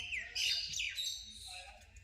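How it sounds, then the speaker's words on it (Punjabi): Bright, high chirping calls of pigeons, fairly close, in a short burst with a low background rumble underneath. "ਆਹ ਕਬੂਤਰ ਮੈਨੂੰ ਸਭ ਤੋਂ ਸੋਹਣਾ ਲੱਗਦਾ"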